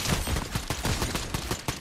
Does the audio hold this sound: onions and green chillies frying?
no